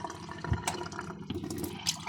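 Water pours steadily from a tap, a continuous splashing rush with a few brief surges, close by and fairly quiet, with no voices.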